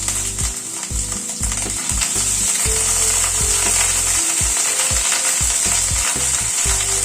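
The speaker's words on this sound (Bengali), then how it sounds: "ফোড়নটা একটু ক্র্যাক করার পরে এখানে আদা বাটা দিচ্ছি 1 চামচ।" Ginger paste added to hot oil after whole spices have crackled, on a low flame, for a dal: a steady loud sizzle throughout with repeated scraping and stirring knocks, no voices.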